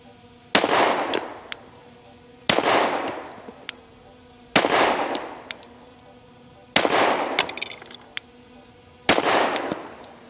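Five sharp, loud pistol shots from a Shadow Systems CR920XP firing Remington ammunition at an outdoor range, spaced roughly two seconds apart, each crack followed by a fading echo and faint clinks between shots.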